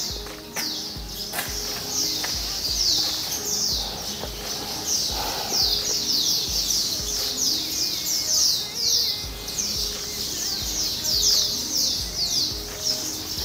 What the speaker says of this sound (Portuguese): Muitos pássaros aqui se agitando pela minha presença.